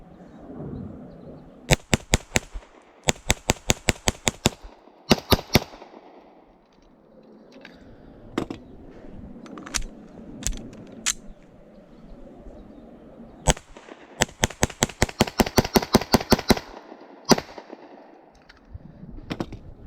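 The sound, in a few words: Kimber KDS9C pistol rapid firing, mag dump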